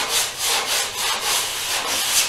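Rhythmic back-and-forth block sanding of guide coat on the body of a 1962 Cadillac under restoration, steady close scraping strokes about three per second, alone.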